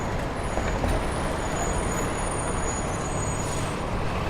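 A truck rumbles past on a Manhattan street in New York City, a loud, steady engine roar mixed with traffic noise and a thin, high hiss like air brakes, close by with no talking.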